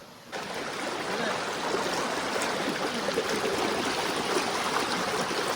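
Water pours steadily at Kunnur waterfall, which is running low, producing a constant, fairly loud rushing hiss that holds evenly throughout with no voices.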